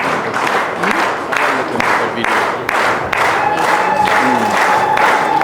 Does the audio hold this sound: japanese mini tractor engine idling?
no